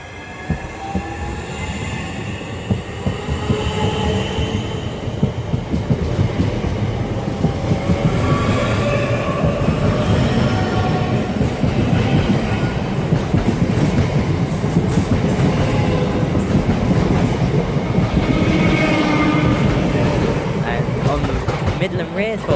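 Class 465 and 376 electric trains depart the station at Charlton, a loud sustained rumble of wheels and motors with rising whine and occasional squeal, rolling steadily past nearby for the whole stretch.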